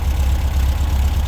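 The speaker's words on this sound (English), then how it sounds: "listening to my fantastic Volkswagen engine, 1776" An air-cooled VW 1776 cc engine with a 100-degree cam, single-port heads, dual Dellorto carburetors and electronic ignition idles after six months unused, giving a steady, loud, low rumble with a slightly lumpy pulse and no talk.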